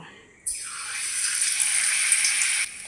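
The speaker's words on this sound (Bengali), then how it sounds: "তো ব্রেডগুলোর গায়ে লাগিয়ে নেব, লাগিয়ে ভেজে নেব।" Gram flour batter-coated bread slices hitting hot oil, setting off a sudden loud, sustained bright sizzle that holds steadily for about two seconds before cutting off.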